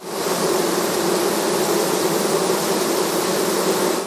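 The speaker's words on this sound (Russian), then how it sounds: "Жужжание пчел для Татьяны Саенко лучше всякой песни" A dense swarm of bees buzzing steadily at an apiary, a loud, continuous close drone with no pauses and no voices.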